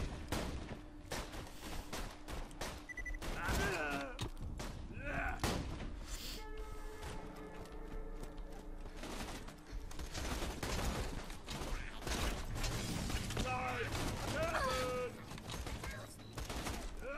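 Rapid bursts of gunfire in Borderlands 2 with thuds and mechanical clatter, dense and continuous, with brief voice-like sounds mixed in.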